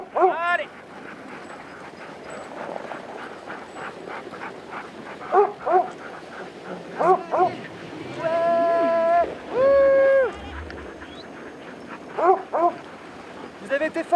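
Sled dogs at Vars yip and bark in short excited bursts over ongoing talk and outdoor bustle, with a couple of longer whining howls in the middle.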